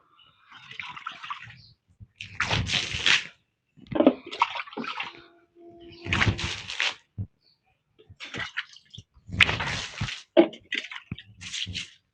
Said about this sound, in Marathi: मी पाणी मारून घेते